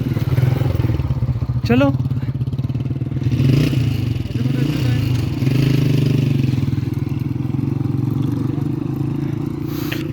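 A motorcycle labors up a steep road in the remote mountains of Azad Kashmir, its engine droning loud and close with rattles and scrapes, while a voice briefly speaks over it.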